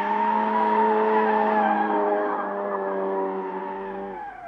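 Ford Mustang GT drifting with a long, steady tire squeal that holds loud and close for about four seconds and then fades, no voices over it.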